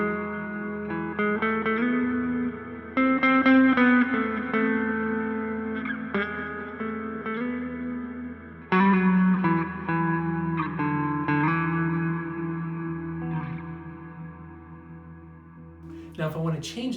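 A held electric guitar chord frozen and sustained by an Electro-Harmonix Freeze pedal, a steady, loud, ringing drone with fresh notes picked over it, ending in a brief scrape.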